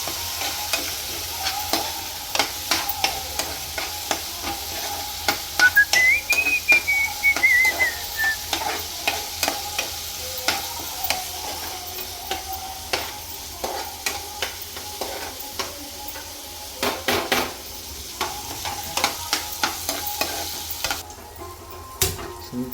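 Upma with boiled urad and moong dal being stirred in a hot pan, a spoon scraping and clicking in an irregular rhythm over a steady soft sizzle, close and fairly loud, with no talking.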